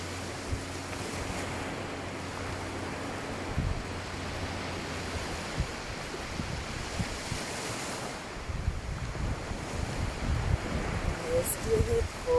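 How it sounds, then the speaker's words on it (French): Steady wash of ocean surf rolling in, with wind rumbling across the microphone; the waves swell louder toward the end. "laissez-vous bercer par le bruit des vagues"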